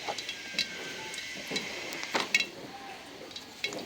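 Soybean oil heating in a hot wok gives off faint, intermittent hisses and light crackles, short bursts scattered over a quiet background.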